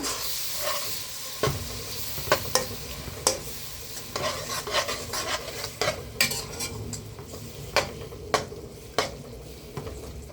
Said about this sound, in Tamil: கிண்டி விட்டுக்கணும் இப்போ